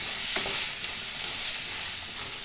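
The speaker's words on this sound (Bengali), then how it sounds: "বেগুন খুব তাড়াতাড়ি ভাজা হয়ে যায়।" Constant, loud sizzling of eggplant frying in hot oil in a pan, with faint scraping as it is stirred, and no talking.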